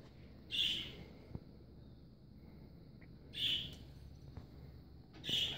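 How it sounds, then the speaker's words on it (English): Outdoor birds chirp in three short, bright calls spaced a few seconds apart over a low background rumble. "Birds won't shut up."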